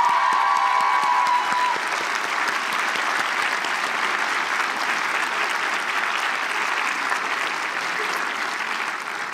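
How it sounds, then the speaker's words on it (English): Sustained applause from a large audience at the Colby-Sawyer College Commencement, a dense, even roar of clapping that holds steady throughout at a fairly loud level, with no talking over it. "Graduates, I invite you to take a moment to give them a round of applause."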